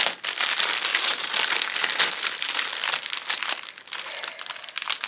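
Loud, continuous crinkling of plastic packaging, close up, as diamond art kits are cut out, with dense crackling rustles and no voices.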